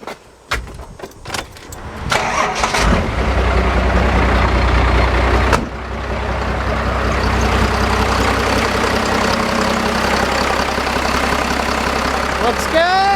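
A Cummins-style pickup truck diesel starts after an oil change, cranking briefly with some clatter before settling into a loud, steady idle that runs on continuously up close.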